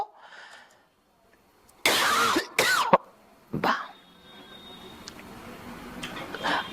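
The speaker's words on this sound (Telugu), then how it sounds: "ఈ దగ్గు కూడా ఎడిటింగ్లో వేయకండి" A man gives two or three harsh, close coughs in quick succession, then a faint throat-clearing sound, with quiet room tone before and after.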